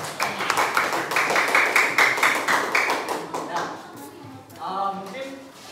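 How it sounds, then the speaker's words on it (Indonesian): Students in a classroom clap together after a lesson on advertising. Sharp, fairly close claps run for roughly three seconds and then fade, and a voice speaks briefly near the end. "kalian tepuk tangan"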